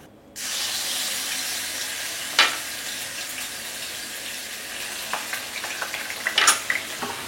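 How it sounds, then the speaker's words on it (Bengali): Steady hissing sizzle of chicken frying in hot oil left from frying onions, close by, with a few sharper crackles and clinks of a utensil toward the end. "বেরেস্তার যে তেলটা ছিল সেই তেলে আমরা চিকেনটা ভাজবো"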